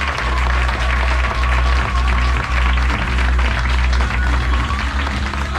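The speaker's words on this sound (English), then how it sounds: "Big round of applause for Cesar Mata" A crowd applauds chef Cesar Mata aboard the Viking Radgrid: sustained, even clapping from many hands fills the space, over a low steady hum.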